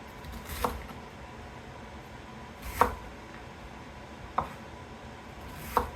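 Knife cutting ingredients into thin slices for ramen on a board, four sparse, soft chops spaced a couple of seconds apart, close but quiet, with no talking.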